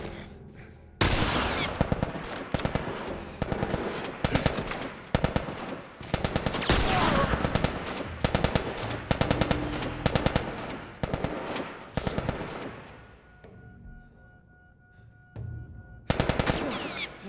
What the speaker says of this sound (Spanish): ¿Cuántos disparos que tengo que darle?